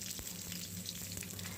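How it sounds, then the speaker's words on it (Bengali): Bay leaves crackle and sizzle in hot oil in a wok, a steady, close frying hiss with small pops throughout. "এখন কড়াই তেল দিয়ে তেল ভালোভাবে গরম হয়ে গেলে তার মধ্যে দিয়ে দেব তেজপাতা"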